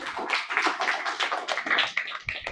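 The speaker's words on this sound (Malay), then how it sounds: "tepuk tangan untuk diri sendiri" A school classroom of students clapping for themselves, a short burst of uneven, close hand claps with no talking over it.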